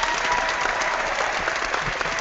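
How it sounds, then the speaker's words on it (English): Steady clapping from a small group during an online chat session, a continuous even patter of hands that stays at a constant moderate level. "I'm going to clap for you."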